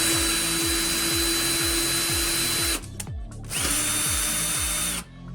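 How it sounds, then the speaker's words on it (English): A small power drill whirs steadily as it bores a little pilot hole in an Arcade1up arcade cabinet, the motor stopping briefly midway and then running again before winding down, close up with no voices. "Typically what I like to do is drill a pilot hole and then I will center it later."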